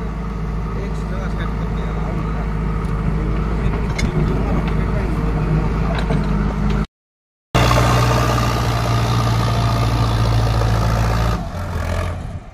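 A Sonalika 750 tractor engine idles with a steady low rumble. It cuts out for a moment, then resumes and fades slightly toward the end.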